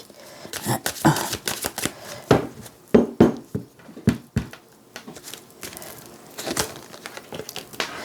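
Tarot cards are shuffled and drawn by hand in irregular bursts of crisp slapping and riffling, with soft card flicks between and no voices.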